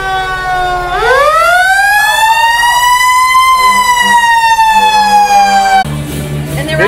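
Fire truck siren wailing loudly at close range during a Christmas parade, a single rising sweep that holds a steady high tone for several seconds before cutting off, with engine rumble and crowd sounds underneath.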